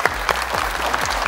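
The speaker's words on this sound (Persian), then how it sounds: "تشویق کنید." Studio audience applause on the Afghan Family Feud game show Ro Dar Ro: a dense, steady burst of clapping from a crowd, fairly close and filling the short moment without talk.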